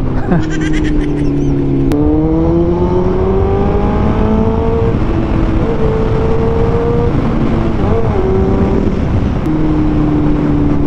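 A Kawasaki ZX-14R sport motorcycle accelerates hard, its engine whine climbing through gears with a short dip at each shift, loud and sustained under wind rush.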